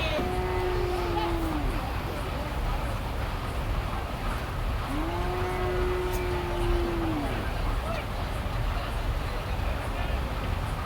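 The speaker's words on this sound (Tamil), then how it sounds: "இதான் வண்டியில் உங்களுக்கு கண்ணுக்குட்டிகளாக வருது இப்போ தான் வண்டியில் உள்ளே விட்றாங்க" Calves are let off a vehicle into a busy cattle market, and two long drawn-out moos ring out clearly over a constant murmur of crowd noise and distant engine rumble.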